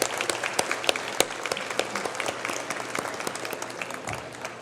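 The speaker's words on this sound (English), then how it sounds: "A big round of applause." An awards-celebration audience claps steadily, a dense wash of many hands with a few sharp, close individual claps standing out, holding at a moderate level before tapering slightly.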